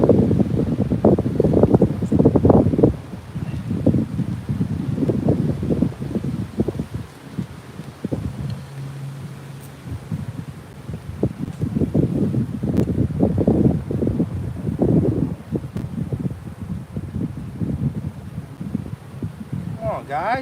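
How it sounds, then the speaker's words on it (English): Strong outdoor wind buffets and shakes a camera at a beehive setup, producing loud, continuous rumbling gusts that rise and fall throughout, with a person talking over it. "it's shaking the camera, it's so windy"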